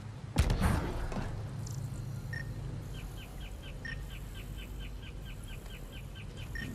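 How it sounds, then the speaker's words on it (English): Jungle birds in the game Mass Effect: Andromeda, a run of quick repeated chirps and calls against a soft ambient bed, with a thump near the start. "I hear jungle birds."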